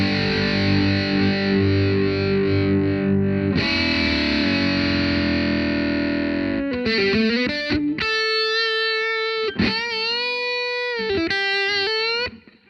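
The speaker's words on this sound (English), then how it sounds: "Now the boost is similar to a full drive. It adds more of the distortion." Electric guitar through a Kinsmen Ethos overdrive pedal with boost engaged, a long sustained distorted chord followed by bright, saturated lead notes and bends.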